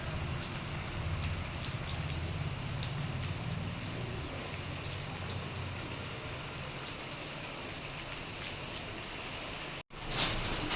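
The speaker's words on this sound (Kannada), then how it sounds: "ಈಗ ಸ್ವಲ್ಪ ಹಂಗೆ ಜುಬುರು ಬರತೈತಿ" Steady rain falling and pattering on surfaces, a continuous even hiss with scattered drips throughout.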